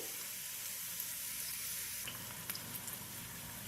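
Thinly sliced onions cook in a pan with a continuous soft sizzle and hiss, quiet and steady, brightening slightly partway through, with a few faint stirring ticks and no voices.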